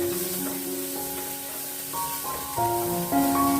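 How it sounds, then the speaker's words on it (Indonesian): Chopped spring onions frying in a pot at home, a steady sizzling hiss over a continuous background of tonal music, with small bursts of crackle and stirring scrapes. "ini untuk daun bawangnya sekalian tak tumis"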